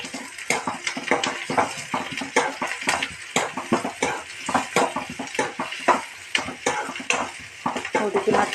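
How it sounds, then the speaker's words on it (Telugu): Egg curry ingredients fry in a pan while a utensil stirs them in repeated clanks and scrapes against the metal. A faint sizzle runs underneath, and a voice murmurs in the background. "బాగా వేగనిచ్చి కొంచెం కరివేపాకు,"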